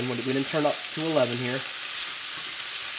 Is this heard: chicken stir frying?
yes